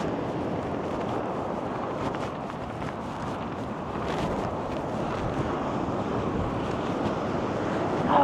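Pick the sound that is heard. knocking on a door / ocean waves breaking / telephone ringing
ocean waves breaking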